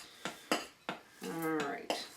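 A spoon mixing chocolate peanut butter cookie ingredients in a bowl, with several sharp close clinks against the bowl spaced apart and a brief scraping stretch between them, fairly quiet with no talk.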